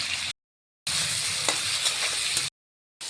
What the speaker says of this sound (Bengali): পনিরটাকে এবার ভেজে নিই